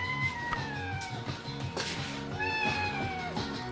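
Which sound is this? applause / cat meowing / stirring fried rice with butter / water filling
cat meowing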